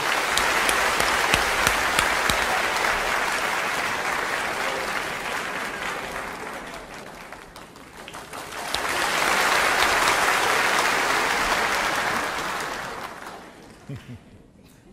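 An audience claps loudly and steadily in a comedy show hall, a dense full-hall ovation that dips briefly halfway through, then swells again before fading out.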